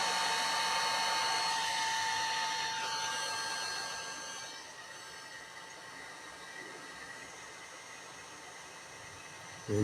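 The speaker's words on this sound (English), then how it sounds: "One heat gun to the rescue. Just put it on a low heat." A heat gun runs on low heat with a steady, close airy whoosh and hum. It continues throughout and eases slightly in level halfway through, with no talking.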